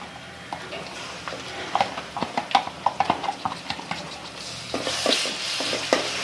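Ginger garlic paste is sautéing with onions in a pan, giving a steady sizzle under a run of quick, clattering stirs and scrapes. A voice speaks briefly beneath the cooking.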